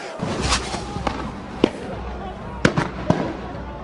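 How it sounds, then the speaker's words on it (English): Tear gas canisters fired during unrest after a grand jury decision, heard as several sharp, distant pops and bangs spaced irregularly over a rumbling street background with voices. "This is definitely tear gas, and it's being fired in all directions"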